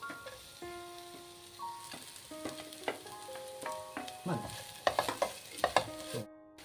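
Fried soya chunks are stirred into biryani masala in a pan for Kerala-style soya biryani: a spoon scrapes and clatters in repeated strokes over a steady low sizzle, with sharper knocks building toward the end and no talking.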